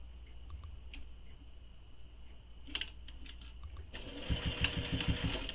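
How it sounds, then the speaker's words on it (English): A sewing machine stitching strap tabs onto a fabric clutch, starting with faint clicks and short runs, then a louder steady rapid whirring stitch near the end, quiet and without talk. "I'm going to stitch these with the seam allowance given in the pattern."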